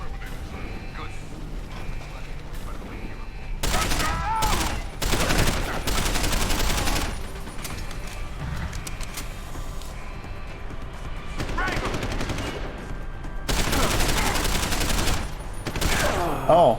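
Gunfire in Deus Ex: Human Revolution crackles in several loud bursts and rapid volleys amid mechanical clicks and clatter, with someone talking over the action throughout.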